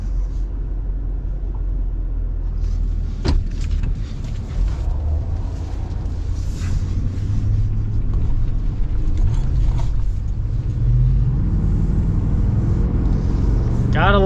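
A 2026 Ford Super Duty single cab with the 6.8 gas engine pulls away with a steady, close low rumble that builds as the truck accelerates, with vehicle noise continuous throughout and a brief sharp knock near the start.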